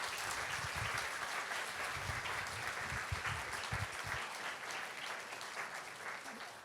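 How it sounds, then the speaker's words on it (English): Audience applause for library staff at a classical piano talk in Vancouver, steady and fairly distant, holding at an even level for several seconds before easing slightly at the end. "if we can give them a round of applause"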